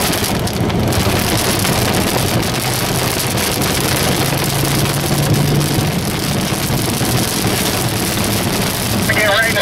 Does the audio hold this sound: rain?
yes